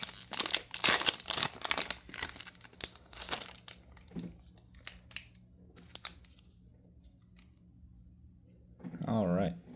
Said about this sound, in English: They're like kind of hard to tear at first, and then they just start falling apart.